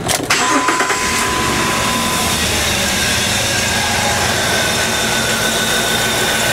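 A car engine with a bad ignition coil is cranked and starts, a brief burst of starter noise followed by steady, loud idling with an uneven, rough running note throughout, no talking.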